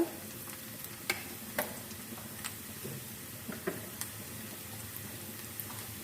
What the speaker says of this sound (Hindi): 1 मिनट के लिए प्याज और ज़ीरे को हम फ्राई कर लेते हैं।